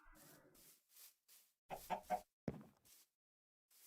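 Chickens clucking in the Minecraft GregTech 6 modded game, a run of short repeated clucks and squawks with brief pauses between them, fairly faint with no talk over them.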